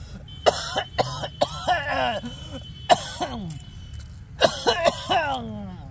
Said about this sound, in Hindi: केते खांसी हुआ लगल यौ